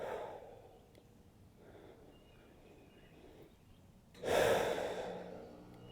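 Controlled breathing during a stretching workout, a slow soft airy inhale through the nose followed by a louder, fuller exhale through the mouth near the end, close and alone.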